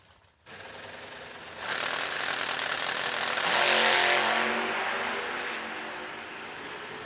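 A Pontiac and a pickup drag race down the track, their engines rising from a start into a loud, sustained roar that swells and then eases off from a moderate distance.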